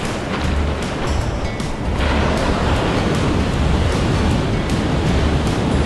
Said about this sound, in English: Many waves today